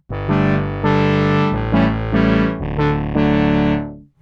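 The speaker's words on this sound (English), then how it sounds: "Here's a sound without anything. It's a brassy" A dry, brassy polyphonic synthesizer with no effects plays a short chord sequence, sustained notes changing every second or so, bright and buzzy with no added space, then cuts off.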